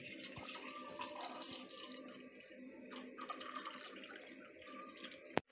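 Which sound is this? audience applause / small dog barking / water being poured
water being poured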